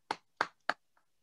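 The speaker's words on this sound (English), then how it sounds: "how about a giant digital hand clap for Adib Khan, Jesse Ogas, and Lori Rabinowi" Three sharp, evenly spaced digital hand claps from an online awards event audience ring out clearly, followed by a faint fourth tap, with no talk.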